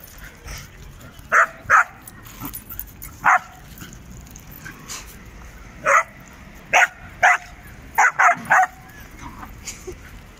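Small chihuahua puppies playing outdoors yap in short sharp barks scattered across the scene, some in quick doubles, over soft background noise and faint talk.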